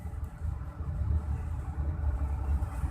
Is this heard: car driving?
yes